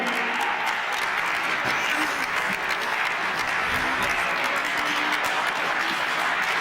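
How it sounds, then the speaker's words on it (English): A wrestling crowd at CCAC South in West Mifflin, Pennsylvania, applauds and cheers for wrestler Dennis Gregory in a dense, continuous wash of clapping and shouting that stays steady and fairly loud throughout. "Never thought I'd see the fans cheer for Gregory"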